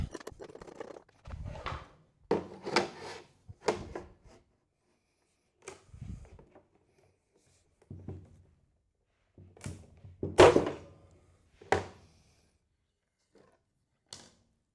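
A Goldblatt flooring cutter making a 45-degree cut through a floor plank: a series of separate thunks, creaks and rubbing crunches, close and moderately loud, scattered in short bursts with quiet gaps between them.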